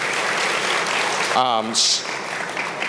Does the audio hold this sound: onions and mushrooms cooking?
no